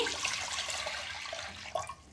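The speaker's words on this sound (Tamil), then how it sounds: "குக்கர்ல தண்ணியை ஊற்றி" Water splashes steadily into a pressure cooker in an outdoor village kitchen, a continuous close pour with a brief louder gush near the end and no talking.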